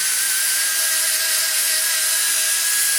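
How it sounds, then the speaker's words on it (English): A 50 grit sand roll porting an aluminum Chevy LT-1 cylinder head, giving a steady high-pitched whine of grinding that holds close and loud with no talk. "I take a 50 grit sand roll, and what I'm going to do is just lightly go in here"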